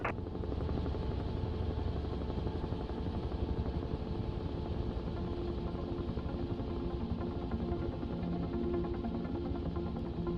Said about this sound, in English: you can take it down to the simulation level and turn all that off and still have a fairly good simulated experience of actual helicopter flight